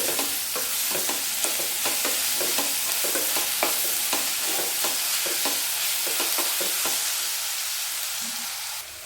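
Onion pieces frying in a pan with salt and a pinch of turmeric, a steady loud sizzle with repeated stirring scrapes throughout, close and without talk.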